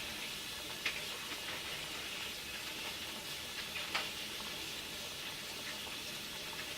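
Vermicelli noodles are rinsed under running tap water, a soft, steady hiss of flowing water with a couple of faint splashes, with no voices over it.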